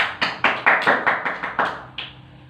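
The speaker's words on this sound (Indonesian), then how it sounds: "Tepuk tangan dulu untuk Aspar." A short round of clapping in a classroom, about ten sharp claps in an even rhythm, close and fairly loud, with no voices.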